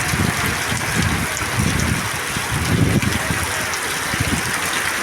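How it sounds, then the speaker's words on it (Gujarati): Heavy monsoon rain pours down near the Bagdana ashram temple, a dense steady hiss that stays loud and constant throughout, with faint low rumbles beneath. "આજ તો કાંઈક ભારે વરસાદ પડે છે"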